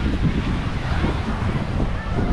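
Ocean waves break on a hot desert beach in La Guajira, Colombia, a steady, loud wash of surf mixed with heavy wind buffeting the microphone throughout.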